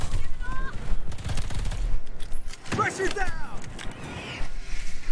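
Rapid gunfire crackles in the video game Earthfall, bursts of automatic shots and fusillades over game effects, with someone talking throughout.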